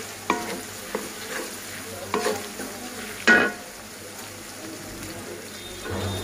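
Onions frying in oil in a pan with a little salt, stirred now and then: a soft steady sizzle broken by several scraping stir strokes, close by and fairly quiet.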